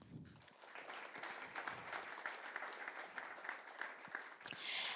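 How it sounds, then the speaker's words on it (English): Audience applause welcomes a panelist named Tom at a tech talk on AI-written code, a soft, distant, even patter of many hands clapping that runs steadily for several seconds. "So please give a warm applause and welcome to Tom."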